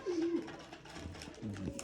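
Soft Cheena pigeon coos, low and throaty, come in two short bursts close by.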